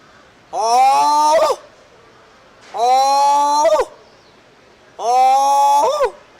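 A man imitates a hyena with his voice, producing three long, loud, close whooping cries with a rising, wavering pitch, separated by short pauses.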